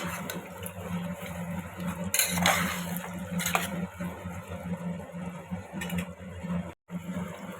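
Grated ginger being stirred into rajma in a pressure cooker pot, with a spoon scraping and clinking against the metal in irregular bursts over a low background hum, no talk.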